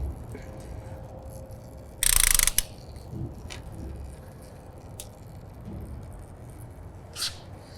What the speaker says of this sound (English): And we're going to hook up our ratchet here.